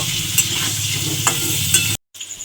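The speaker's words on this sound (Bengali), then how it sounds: "আলুটা আমার এখানে লাল করে ভাজা হয়ে গেছে" Potatoes with a little turmeric sizzle in hot oil until browned while a utensil stirs and scrapes, then the sound cuts out briefly before resuming faintly.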